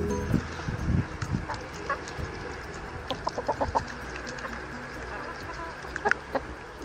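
Several chickens cluck in short, uneven bursts nearby, with a few higher squawks and some background farmyard noise.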